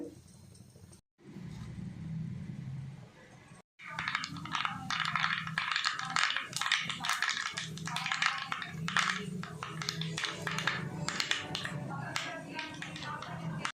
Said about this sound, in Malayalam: ഒരു സ്പൂൺ കടുക് ഇട്ട് കൊടുക്കുന്നുണ്ട്